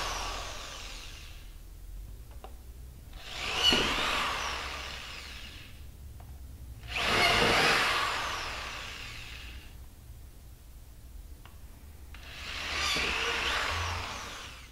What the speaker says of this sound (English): Now we're going to drill 4 5/16 bolt holes in the panel.